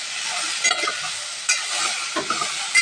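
Okra for sambar sizzles steadily in a hot pan, with a spatula stirring and scraping against the pan in short bursts every second or so, close and clear with no talking.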